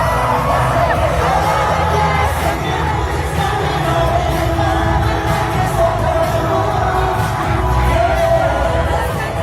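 A stadium crowd of 80,000 at a concert in Arlington cheers and screams in a dense, continuous roar that stays loud for the whole stretch.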